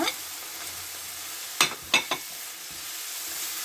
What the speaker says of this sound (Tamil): இப்போ வந்து நான் முந்திரி பருப்பை போட்டுக்கிறேன் பொரிச்சதை